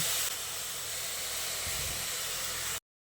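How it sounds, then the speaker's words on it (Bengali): Drained drumstick flowers hiss steadily in a hot dry wok on a gas stove, an even moderate sizzle that cuts off abruptly near the end. "এই শুকনো কড়াইয়ের মধ্যে জল ঝরিয়ে রাখা সজনে ফুলগুলো দিয়ে দিচ্ছি"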